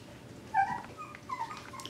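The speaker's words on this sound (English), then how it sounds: "Here we have Alexa and Hudson's litter of F1b mini Bernedoodles." Several-week-old F1b mini Bernedoodle puppies whimper softly, two or three thin high whines rising above a quiet background hum, fairly faint and close, with no talking.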